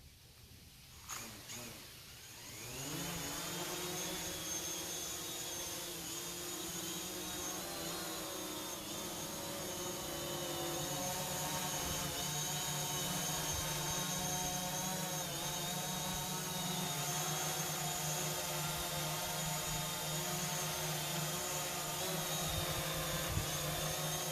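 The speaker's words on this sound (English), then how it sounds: "that's how you hand catch the DJI Mavic Pro, just like the Spark" DJI Mavic Pro quadcopter drone hovering close by before being caught by hand, a steady high-pitched propeller whine and buzz that starts up and holds for a long stretch with no talk.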